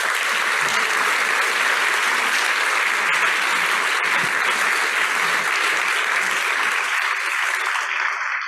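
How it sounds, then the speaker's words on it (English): Sustained applause from a large audience at the World Health Summit 2022, dense steady clapping filling the room throughout before thinning slightly at the very end. "All the others in the team of the WHS also require a big applause"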